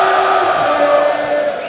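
A darts crowd at the Dutch Darts Masters roars and cheers after back-to-back 180s, a loud, sustained wall of voices and whoops that eases slightly toward the end.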